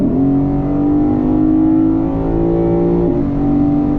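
A 2024 Lexus IS500 with a 5-liter V8 revs loudly up close, its engine note climbing and holding in a smooth, deep drone, then dipping briefly before rising again.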